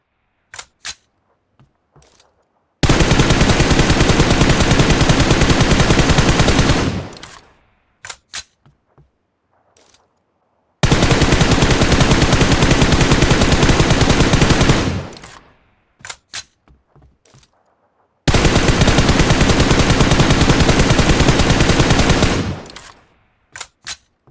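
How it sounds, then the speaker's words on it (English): Three long bursts of rapid automatic gunfire aimed at targets out to 100 meters in PUBG Mobile, each lasting about four seconds, loud and close, with quiet gaps and faint clicks between them. "So peek left or right on the targets and start to shoot all the way to the 100-meter target."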